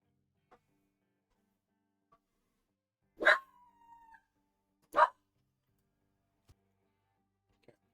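A dog barks twice in the background, two sharp separate barks a couple of seconds apart, with a faint whimper between them and near silence otherwise.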